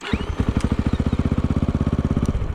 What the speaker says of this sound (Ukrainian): Мотик заводиться отак, донизу, просто цей повзунок, так сказати.